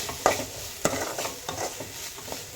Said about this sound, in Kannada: ಒಂದು 2ರಿಂದ 3 ನಿಮಿಷ ನಾವು ಇದನ್ನು ಚೆನ್ನಾಗಿ ಫ್ರೈ ಮಾಡಿಕೊಳ್ಬೇಕು.